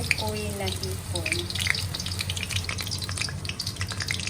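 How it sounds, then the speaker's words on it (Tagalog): Shrimp fritters (okoy) frying in oil over low heat give off a steady, close sizzle, with a brief voice at the start. "kapag nagpiprito ako ng ukoy, mahina lang yung apoy ko para hindi kaagad siya masunog"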